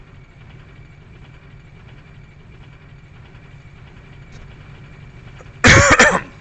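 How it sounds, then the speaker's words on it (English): A single sharp, loud cough bursts out near the end, following several seconds of faint low hum. "Apologize about the cough."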